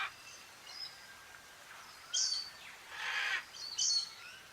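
Toucans calling in a group: a few short, raspy bursts come at a moderate distance with quiet pauses between them, and no voices.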